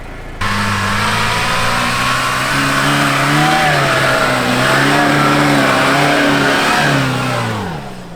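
A Lada Niva engine revs up to about 4000 rpm and holds a high, strained drone, pitch wavering as the throttle changes, then winds down at the end; loud and close.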